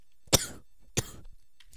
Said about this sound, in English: Just had a little cough there.